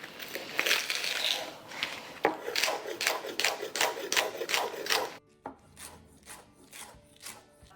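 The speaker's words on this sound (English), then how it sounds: "Once you get that lettuce chopped up, you can add it right into your bowl." A knife chops through crisp lettuce for a Caesar salad, brisk crunchy cuts falling in a quick, regular rhythm close by, the crunching growing quieter and sparser toward the end.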